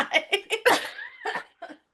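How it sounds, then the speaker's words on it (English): A short burst of several harsh coughs in quick succession, close and fairly loud, trailing off with a final cough. "I can't laugh. I start coughing."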